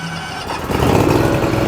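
John Deere Z700 series zero-turn mower turned over with the key: a brief low whir, then the engine catches and settles into a loud, steady rumble close by, with no talking.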